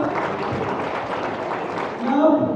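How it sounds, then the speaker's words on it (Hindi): An audience at a Hindi Day award ceremony breaks into steady, continuous applause that swells slightly toward the end, with voices faintly audible over the clapping. "एक बार जोरदार तालियां"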